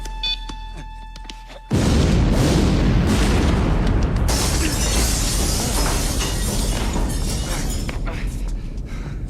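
A bomb detonates in an action film: after a quiet, tonal stretch, a sudden deafening blast erupts and rolls on as a sustained roar, with shattering debris crashing through it.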